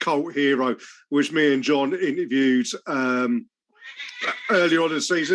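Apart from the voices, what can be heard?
cat meowing in the background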